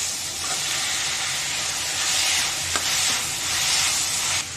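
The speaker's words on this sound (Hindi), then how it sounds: "अब इसको अच्छे से फ्राई कर लेंगे।" Capsicum and cabbage frying in a pan as pasta is prepared, giving a steady broadband sizzle with soft stirring scrapes and one brief sharp click, fairly close and continuous with no voices.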